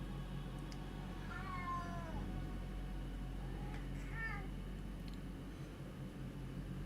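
A cat meows twice indoors, drawn-out wavering cries over a constant low electronic hum, fairly faint and unaccompanied by talk.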